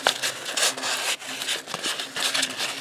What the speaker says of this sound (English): I'm gonna sand this up.